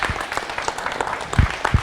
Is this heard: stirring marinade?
no